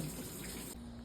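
Hot water runs steadily from a tap during a home inspection, a close, even hiss of flowing water that stays constant throughout the short moment.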